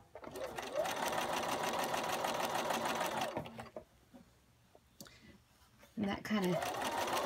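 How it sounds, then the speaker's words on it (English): A sewing machine stitches quilt squares for a beginner constellation quilt, running in a steady buzzing burst, pausing briefly, then starting again, with a person talking quietly during the pause. "Now we've turned them around, and we're sewing down side two."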